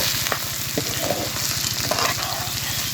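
Bitter gourd with small shrimp sizzles steadily in a pan over a clay stove, with a continuous loud fry and occasional stirring scrapes.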